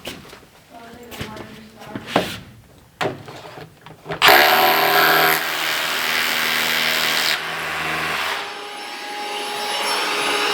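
A power drill drives Tapcon concrete screws while a custom stand-up shower is framed. It starts with a few short bursts among voices, then a loud, sustained whirring grind of several seconds.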